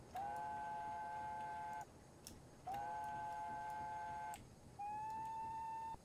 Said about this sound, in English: Oh, yeah, it has two whistles.